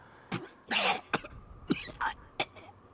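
A man coughs in a video game sound effect, several harsh, rasping bursts spaced unevenly with a throat-clearing quality, close and alone with no other voices.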